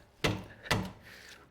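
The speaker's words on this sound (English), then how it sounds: "I'm just going in with the pry bar right on that nub. I'm going to knock on it." Metal pry bar striking the nub of a tie rod on a 2020-2025 Kia Soul during tie rod replacement: three sharp knocks, two spaced evenly and a third at the end, close and alone.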